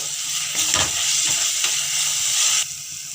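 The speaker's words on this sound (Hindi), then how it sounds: "इसी टाइम हम इसमें डालेंगे अदरक, लहसुन और हरी मिर्च का पेस्ट और इसको भी डाल के हम भूनेंगे" Ginger, garlic and green chilli paste frying with onions in a pan for kamal kakdi (lotus stem) sabzi, a steady loud sizzle with bursts of crackle as the paste hits the hot oil.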